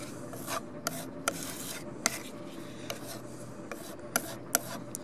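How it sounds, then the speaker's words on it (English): Repeated rough scraping strokes of a tool dragging excess putty off trim, close by, with sharp short bursts spaced irregularly and no talking. "putty it on, scrape off the extra"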